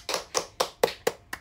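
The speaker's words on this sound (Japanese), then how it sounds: "みんな拍手して、お家でも拍手して" Six crisp hand claps ring out one at a time, evenly spaced and close to the microphone, with brief quiet between each sharp slap.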